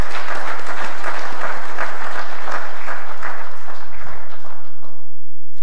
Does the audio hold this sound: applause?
yes